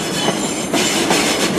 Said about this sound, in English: And another 455 Southwest train showing up.